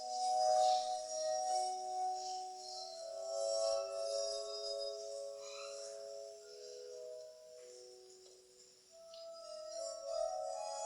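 Sustained humming tones at several different pitches, glassy and ringing like a played wine glass, heard faintly and steadily with no talking over them.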